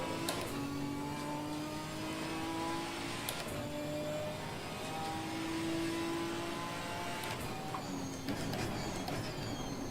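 Ginetta race car engine during practice at Imola, a steady continuous drone with shifting pitch tones throughout, loud and alone with no talk.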